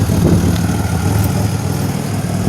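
A 2007 Pontiac Grand Prix with a ZZP XP cam runs with a steady low rumble, loud and close, even with no rise or fall and no voices.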